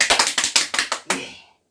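About eight sharp claps in a quick, even rhythm, close and distinct, from a senior recreation class audience. The last clap rings out briefly before silence.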